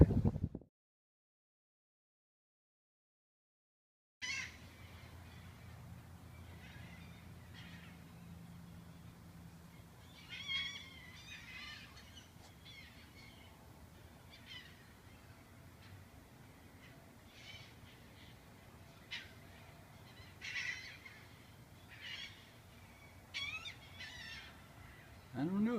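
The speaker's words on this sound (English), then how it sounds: "They're just flying all over, squawking." Crow-like birds squawk and caw in scattered bursts around an outdoor spot, some calls sharp and close, others fainter, over a low background murmur after a short silent start.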